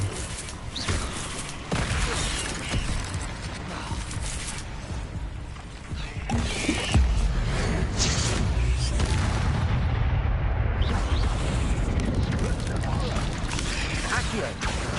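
Incendio fire spells cast in Hogwarts Legacy, mixed into dense, continuous spell-combat effects with rumbling booms and crackling bursts that grow louder and heavier midway and stay busy to the end.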